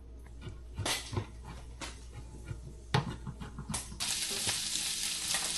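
Spam and onion fry in a pan for fried rice, a steady close sizzle with stirring scrapes that grows denser and louder toward the end.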